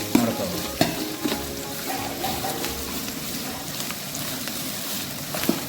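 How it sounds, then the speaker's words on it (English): Onions sizzle in hot oil in a pan for South Indian coconut rice while a spoon stirs them, with steady close frying hiss and occasional scraping knocks. "why you have to keep stirring is that to avoid the onion getting burnt."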